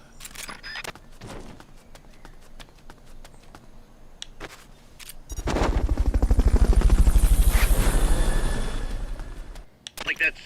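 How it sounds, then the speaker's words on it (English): A Fulton recovery helicopter in Metal Gear Solid: Peace Walker swells into a loud, rapidly pulsing rotor roar lasting several seconds, after scattered clicks and game effects with some voice. "Fulton Recovery helicopter is complete."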